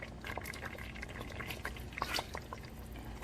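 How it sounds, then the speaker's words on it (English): Canned tomatoes are poured into a simmering chicken spaghetti sauce with melted cheese, giving a close, wet sloshing and crackling texture with scattered small splats and no talking. "before I pour the tomatoes in"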